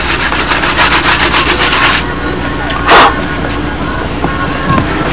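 Rapid back-and-forth rubbing of sandpaper on paint edges of a model Spitfire aircraft, close and steady for about two seconds, then lighter scraping with a brief louder swipe.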